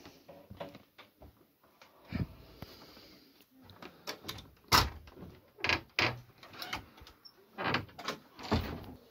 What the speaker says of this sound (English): They're definitely banging on this door or something.